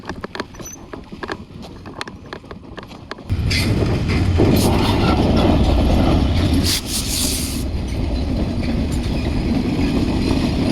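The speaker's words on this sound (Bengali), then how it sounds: "ট্রেন আসতেছে" A train rumbles past close by, its loud rattling and clatter rising suddenly and continuing steadily after a quieter, patchy stretch of background noise.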